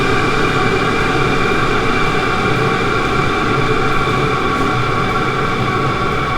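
A Chinese diesel heater runs with a loud, steady roar and dense mechanical drone, unbroken and close, as it is throttled back toward idle.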